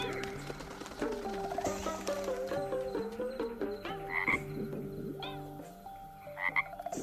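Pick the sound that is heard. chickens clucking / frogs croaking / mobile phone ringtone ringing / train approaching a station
frogs croaking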